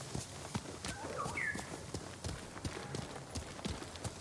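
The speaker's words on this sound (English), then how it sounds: "This is my digital deluxe horse." Horse hooves clip-clop in a steady walking rhythm in Ghost of Tsushima, each footfall distinct and fairly close, over a soft outdoor ambience with a brief chirping call in the middle.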